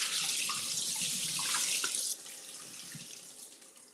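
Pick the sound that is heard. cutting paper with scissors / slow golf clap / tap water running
tap water running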